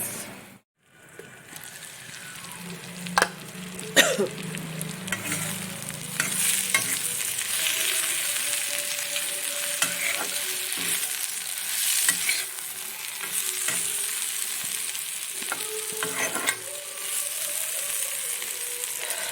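Vegetables fry in a small amount of oil in a pan on a gas stove, a steady close sizzle with occasional scraping stirs, with no talk.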